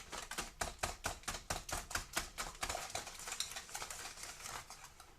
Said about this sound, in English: you continue stirring until you stir well